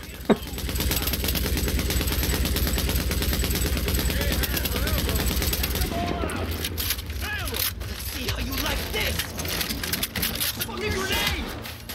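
Machine gun fire in The Division rattles in rapid continuous bursts for several seconds, then breaks into scattered shots over a busy battle with voices talking throughout.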